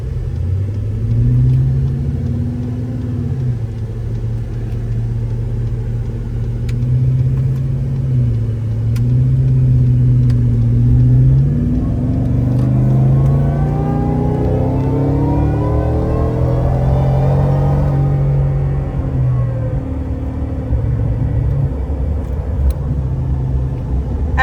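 Deep, loud engine rumble from an 850 hp Whipple-supercharged Coyote 5.0 V8 Gen 2 Ford Raptor truck that climbs steadily in pitch as it accelerates hard, then drops off abruptly.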